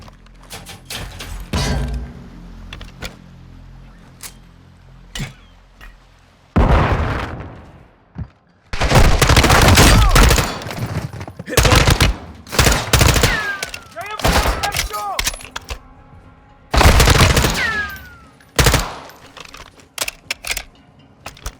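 Loud bursts of gunfire and sharp blasts from Call of Duty Modern Warfare 2, with a flashbang and rapid automatic fire coming in several dense, explosive volleys separated by quieter gaps and a few isolated shots.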